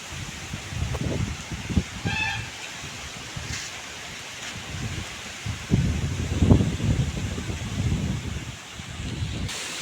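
Strong morning wind blows outdoors, buffeting the microphone in gusty rumbling surges with rustling, loud and close, strongest in the latter half, with no talking.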